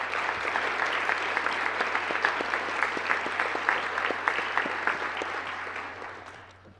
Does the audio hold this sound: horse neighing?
no